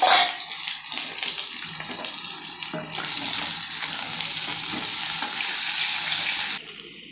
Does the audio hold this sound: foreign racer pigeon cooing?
no